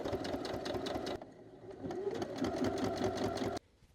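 A sewing machine stitches quilt fabric and batting in rapid, steady whirring runs, loud and close, briefly slowing between bursts of stitching.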